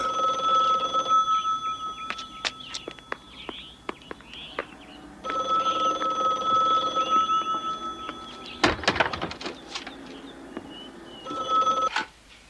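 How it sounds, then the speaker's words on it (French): A telephone bell rings indoors in repeated bursts with pauses between them, loud and clear, with a brief clatter partway through and no talking. "J'ai entendu le téléphone."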